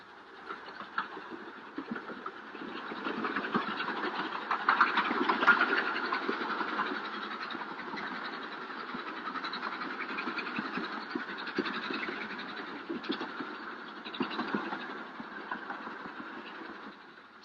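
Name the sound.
Darjeeling hill train climbing through the mountains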